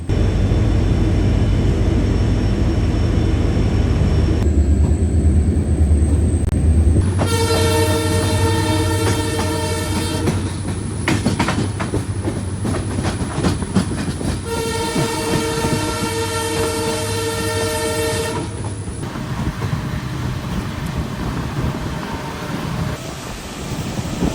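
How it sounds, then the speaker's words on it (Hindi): A passenger express train at Lonavala station, where banker locomotives detach, rumbling loudly and steadily close by, with two long sustained horn blasts sounding over the low engine drone. "यहीं पे जो बैंकर्स है वो डिटैच हो जाएंगे"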